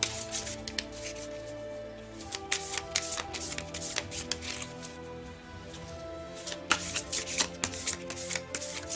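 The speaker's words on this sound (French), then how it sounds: "ici je tire une carte avec l'oracle des reflets." Oracle cards being shuffled and drawn, a steady run of crisp riffling and slapping card sounds over soft background music, with sharper flicks as individual cards are pulled.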